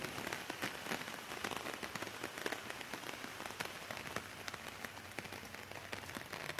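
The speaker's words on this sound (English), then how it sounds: "Wow, look at this rain." Very heavy rain pours steadily among bamboo trees, a dense continuous hiss with close drops pattering and tapping on leaves and surfaces throughout.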